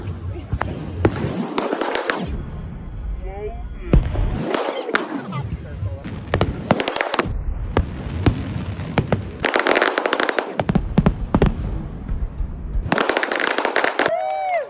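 Fireworks explode over Waikiki Beach at the Hilton Hawaiian Village on a Friday night, a dense run of loud cracks and booms with a festive crowd murmuring and talking throughout.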